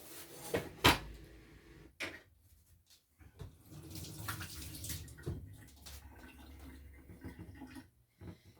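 Hands are rinsed under a running kitchen tap, a steady splash of water broken by a couple of sharp knocks like a cupboard closing, heard up close with no talking.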